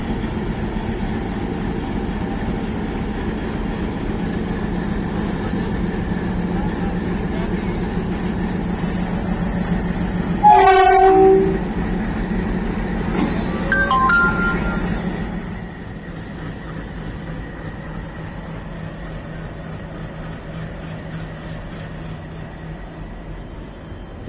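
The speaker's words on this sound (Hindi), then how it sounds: "यहाँ पे अटैच हो रहा है हमारी ट्रेन का locomotive, which is WDP3A toaster." A WDP3A diesel locomotive at Bathinda Junction in India: a steady low diesel engine rumble and idling hum, with a brief metallic clank and a short horn-like tone midway before the engine drone settles lower.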